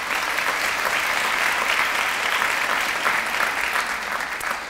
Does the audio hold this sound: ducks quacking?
no